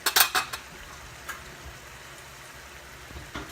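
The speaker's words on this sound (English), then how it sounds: "That was just the pan lifting up." A metal pan pops and clatters inside a hot oven while butternut squash roasts, a quick burst of sharp metallic bangs and rattles followed by a couple of faint isolated ticks against quiet background hiss.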